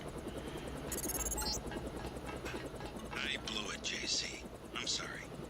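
Helicopter engine in the video game Deus Ex, a steady low rotor drone holding throughout, with voices talking over it.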